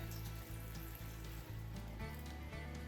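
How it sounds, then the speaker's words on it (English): Water is poured into a microgreen growing tray to a depth of about an inch for bottom watering, a steady, close hiss of flowing water with a low pulsing hum underneath and no voices. "I'll put in about 1 inch of water"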